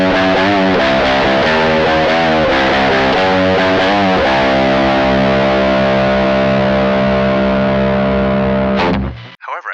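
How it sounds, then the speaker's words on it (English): A high-gain, metal-like electric guitar sound comes from stacked pedals including a Space Cowboy, with dense distorted chords and chugging hits that lead into a long ringing chord. It is loud and played solo, and it cuts off abruptly with a short scrape at the end. "with gain stacking that created a rather intense metal-like high gain sound."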